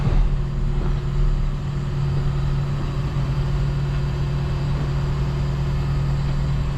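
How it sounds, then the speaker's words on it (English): An engine idling, a steady low hum with a constant drone that holds evenly from start to finish, close and fairly loud. "Turn the revs down, Russ."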